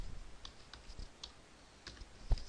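Soft clicks of a computer keyboard as a username is typed, sparse and quiet key presses with one sharper tap near the end.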